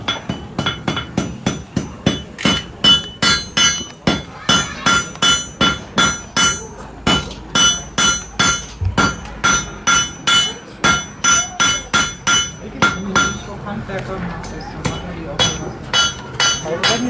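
A blacksmith hammers red-hot iron on an anvil during a May Day demonstration in Fort Langley, British Columbia, with loud, rapid, rhythmic metallic strikes in quick bursts and short pauses between them.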